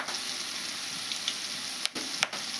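Pakoda fritters made with peanuts frying in hot oil, a steady close sizzle with a few brief pops and stirring clicks, with no talking.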